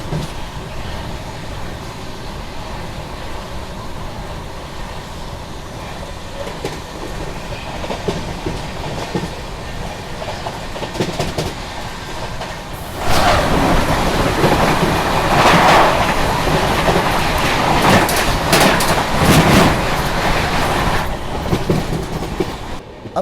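Howrah Jodhpur Express passenger train running at about 130 km/h, with a loud steady rumble of wheels and rolling stock that swells noticeably louder and harsher partway through, clattering rail noise continuing to the end.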